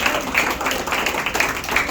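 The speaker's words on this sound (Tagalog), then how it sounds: "Isang malakas na palakpak para kay Ate Kai." A gathered group gives a round of applause for Ate Kai, a steady close clapping patter at moderate volume with some voices mixed in.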